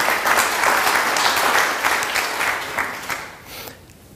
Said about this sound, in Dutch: graag een applaus voor Erik